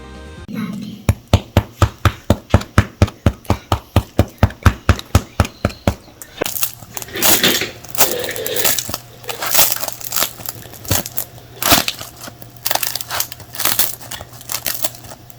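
Crusty no-knead artisan loaf baked in a Dutch oven, still steaming hot, crackling as it is broken: a rapid run of about twenty sharp, regular crunches up close, then irregular crackles and tearing noises.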